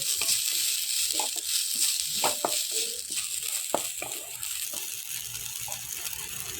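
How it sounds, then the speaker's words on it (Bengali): Basmati rice frying in a pan for a fish-head rice dish, giving a steady close sizzle with scattered scraping clicks from stirring throughout, and no talk. "চালগুলি আমি এখন ভেজে নেব চালগুলি আমার ভাজতে দেবো"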